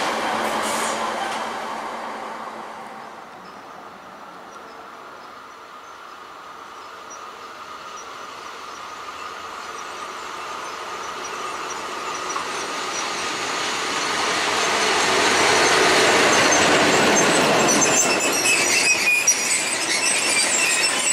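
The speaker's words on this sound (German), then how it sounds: "jetzt Einfahrt der Erfurter Bahn auf Gleis 1" An Erfurter Bahn train rolls into a station platform steadily, its broad rumbling noise building gradually and swelling loudest near the end, with faint high squealing from the wheels.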